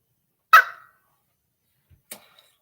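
A dog named Lando gives a single loud, sharp bark, followed after a pause by a fainter, shorter yip, both close by in an otherwise silent room.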